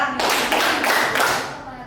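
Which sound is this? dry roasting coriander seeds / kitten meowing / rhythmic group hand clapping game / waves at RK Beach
rhythmic group hand clapping game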